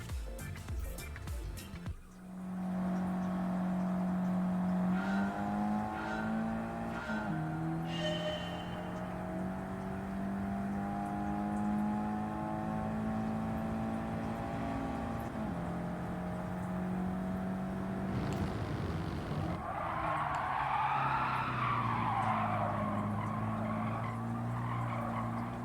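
Race cars in Gran Turismo 7 roar and jostle while overtaking, with engine drone shifting pitch, tires skidding and squealing through corners, and a rising whine near the end, loud and continuous with no talk.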